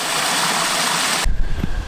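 Water pours steadily over a rebuilt pondless waterfall in a loud broadband rush that cuts off abruptly partway through, leaving lower, uneven splashing and rumbling.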